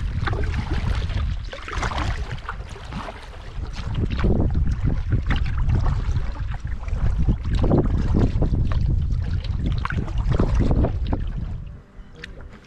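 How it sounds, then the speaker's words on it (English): Canoe paddling on an Adirondack lake on a winter trip, with steady broadband wind and water noise and repeated soft splashes and knocks from strokes, loud and close throughout, fading near the end. "It's a beautiful day to be out paddling"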